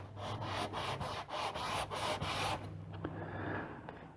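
Card scraper edge run up and down end-on across a 1200 grit sharpening stone, a quick rhythm of about ten close, faint rasping strokes that ends in a few softer scrapes.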